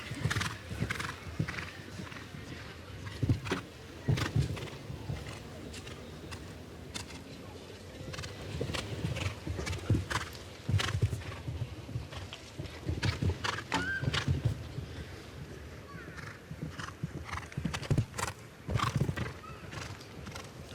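At an outdoor show-jumping Nations Cup event, a horse's hooves thud in an uneven rhythm with occasional snorts and whinnies, while commentary and crowd murmur run underneath.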